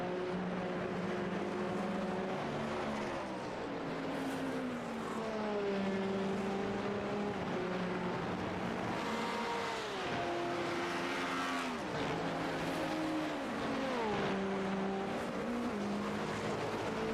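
Race cars circling a track during an endurance race, engine notes rising and falling through gear changes and corners, with occasional tire squeal, a continuous layered roar of several cars at moderate distance.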